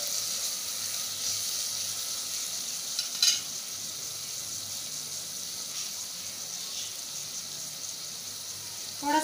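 Turmeric and garam masala are stirred and fried for chicken biryani, making a soft, continuous sizzle with a couple of brief spoon scrapes and clinks, fairly quiet and with no talking.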